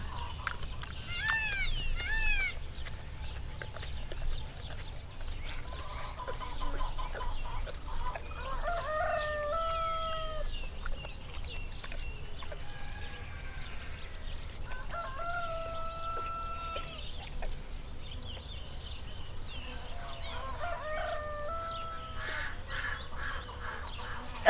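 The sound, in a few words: chickens clucking on a farm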